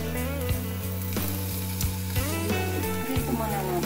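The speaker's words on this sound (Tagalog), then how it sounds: "prito muna natin itong ating bacon" Steady sizzling and crackling of bacon frying in a hot pan, continuous and close, with music playing underneath.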